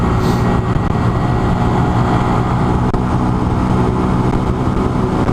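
A 2019 Honda Monkey motorcycle engine drones loudly and evenly in third gear at around 50 miles an hour, a steady close engine roar with wind noise and no speech.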